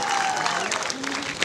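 A crowd at a live music concert gives a short, dense burst of applause, with a voice faintly audible over the clapping.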